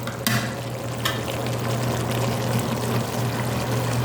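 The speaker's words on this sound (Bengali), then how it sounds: "লাউ কষানো চলছে" Bottle gourd sautéing with spices in a pan, a steady close hiss and sizzle under a constant low hum, with a couple of brief scraping clicks early on.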